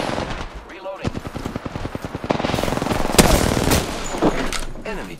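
Rapid automatic gunfire from the battle royale game Apex Legends rattles in dense bursts that build into a loud sustained volley, punctuated by sharper individual shots and brief lulls.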